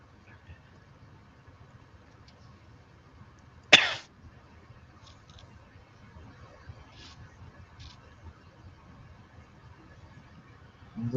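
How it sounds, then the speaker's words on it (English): A single sharp cough rings out close by against a quiet background with a low engine-like hum, followed by a few faint clicks. "Sounds like you got a little bit of a cough there"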